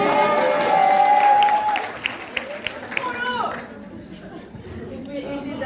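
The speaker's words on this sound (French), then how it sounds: "Si vous pouvez éviter d'applaudir à chaque fois que je dis une phrase." Audience applause and crowd chatter during a business startup pitch, a steady burst of clapping for about two seconds that fades out, followed by quieter room murmur with a few isolated claps.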